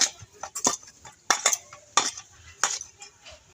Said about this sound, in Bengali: এবার আমি লেচি কেটে নেব